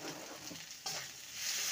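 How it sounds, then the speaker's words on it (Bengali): Tender pointed gourd (parwal) pulp fries in a pan, a steady close sizzle with stirring scrapes; a brief louder burst near the middle, then the hiss grows fuller toward the end, no talking. "ভালো করে ভেজে নেব।"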